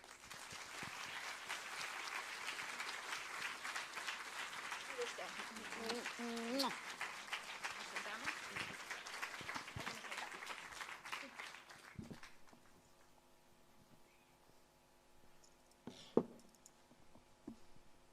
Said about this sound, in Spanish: peço-vos uma salva de palmas para Rosa Monteiro